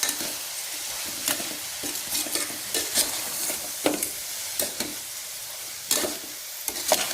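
Long beans tossed with salt in a pot are stirred with repeated scraping and clattering strokes over a soft sizzle, irregular and close, with no talking.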